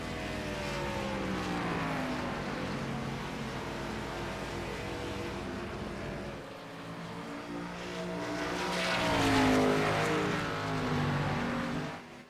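A NASCAR Gen 4 race car's engine in iRacing at New Hampshire, a steady, loud, high-revving drone that dips briefly, then climbs and sweeps in pitch as the car is thrown into a turn.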